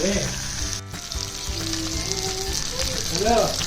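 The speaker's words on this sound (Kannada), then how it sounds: "fish fry" Cut pieces of fish fry in hot oil in a home kitchen pan, giving a steady, close, continuous sizzle with faint crackles throughout.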